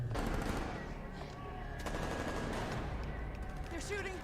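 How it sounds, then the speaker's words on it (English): Gunfire in The Last of Us TV episode "When You're Lost in the Darkness", bursts of automatic shots mixed into dense, loud scene noise with voices. "They're shooting! They're shooting at us!"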